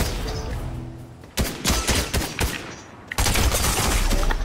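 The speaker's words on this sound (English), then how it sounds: "No, he's not shooting at you, he's shooting at the guy that shot him." Bursts of gunfire from the Fortnite video game, rapid volleys of shots starting after a quiet stretch, then a dense sustained barrage near the end, loud and close with no talk.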